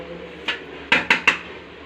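Dishes clattering while rice is served: one light clink followed by three sharp, quick clanks of plates or utensils, close and fairly loud, with no talking.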